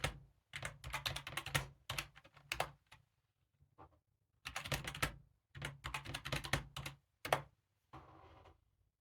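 Keys clatter on a computer keyboard as a password is entered at a Linux root prompt, bursts of rapid clicking separated by short pauses, close and clear with no talking.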